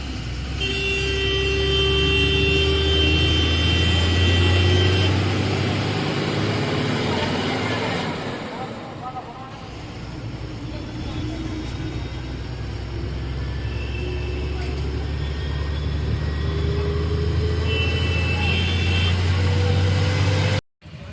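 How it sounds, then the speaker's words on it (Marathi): An auto rickshaw rattles through busy traffic in Maharashtra, with a steady close engine drone and road rumble throughout, passing vehicle horns honking, and a few voices under the din. "आता आम्ही रिक्षामध्ये बसलेलो आहोत"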